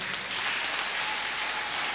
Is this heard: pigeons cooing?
no